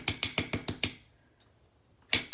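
Ball peen hammer texturing the edge of a metal stamping blank: six sharp metallic strikes in quick, slightly uneven rhythm, a pause of about a second, then one more close, bright blow.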